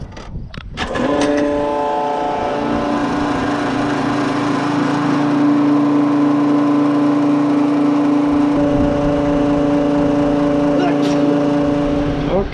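A diesel farm tractor on a soybean farm starts up and settles into a loud, steady idle with a strong droning hum close by, while someone talks during the clip.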